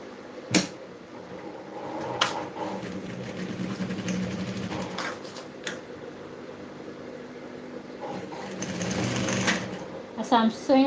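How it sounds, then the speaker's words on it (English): A sewing machine stitches a garment neckline in steady running bursts, stopping and restarting, with a voice talking quietly in the background. "So now that I've pinned my neckline, I'm going to start sewing."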